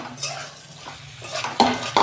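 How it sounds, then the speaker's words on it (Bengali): Green beans and potato pieces tumble into a pan of oil-rich spiced curry masala, giving a few close, loud clatters and scrapes of a utensil against metal with faint sizzling, no talking. "আমি শিম আর আলুটা দিয়ে দিচ্ছি।"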